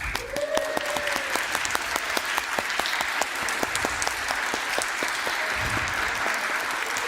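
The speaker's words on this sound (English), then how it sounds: "Can we give them a round of applause?" A church congregation gives a warm round of applause, a continuous crisp patter of many hands with some louder individual claps, and a short voice or tone rising briefly near the start.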